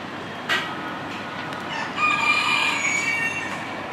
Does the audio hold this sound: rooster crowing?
yes